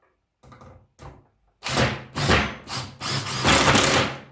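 A Parkside PDSSA 20-Li A1 cordless impact driver drives small Phillips screws, starting with two short light bursts, then four louder rattling hammering runs in quick succession, close and without talk.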